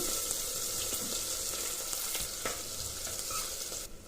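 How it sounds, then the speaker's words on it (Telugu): Chopped onions dropped into hot oil with fried cashews and cumin, giving a steady hissing sizzle close by that stays even throughout with a few faint stirring knocks and no voices. "ఆ తర్వాత కట్ చేసి పెట్టుకున్న ఆనియన్ ముక్కలు కూడా వేసుకుందాము"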